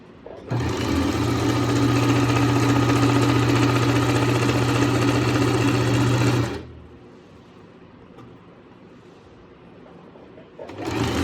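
A sewing machine runs steadily for about six seconds, stitching salwar fabric alongside buckram, then stops and a quiet pause follows before the motor starts up again near the end.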